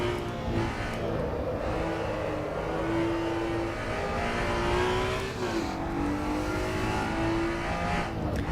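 Race car engine in Assetto Corsa EVO, traction control off, droning loudly and steadily with shifting pitch, one clear drop partway through like a downshift, with no voices.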